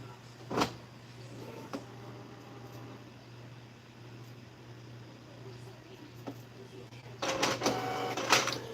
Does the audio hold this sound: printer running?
yes